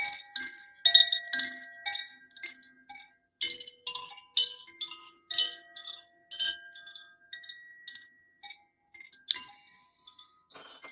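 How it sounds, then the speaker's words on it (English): Sound healing chimes ring out in a series of bright metallic strikes, some clustered and some spaced apart, each leaving a short shimmering decay in a quiet room. "chimes."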